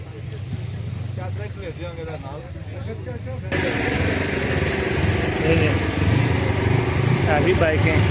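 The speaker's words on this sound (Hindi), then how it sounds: "हैवी बाइकें।" Heavy motorcycles from a group of bikers arriving in a valley run their engines in a steady broadband rumble, rising louder partway through, with people talking over it.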